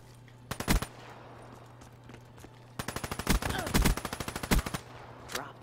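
Automatic rifle fire in the video game Call of Duty: Black Ops 3, with a short burst followed by a long rapid volley of loud, evenly spaced shots and a final brief burst.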